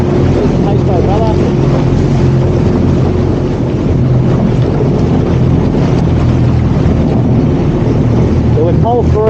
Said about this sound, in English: There's the pace boat brother.